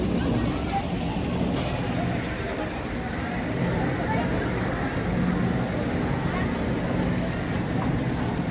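Artificial rain falls steadily at Al Zawaya Walk in Sharjah, UAE, a continuous loud wash of drops hitting the ground, with a high electronic whine running through it and people talking underneath.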